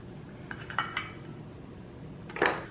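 Baked egg sheet being cut into quarters in a metal pan, giving a few light utensil scrapes and clinks against the pan, quiet and close, with one louder scrape near the end.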